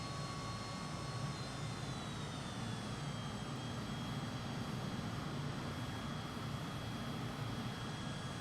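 Steady, continuous roar of a MiG-21bis jet engine in the Microsoft Flight Simulator 2020 game, with a whining high tone that slides through the first few seconds, heard alone at a constant level.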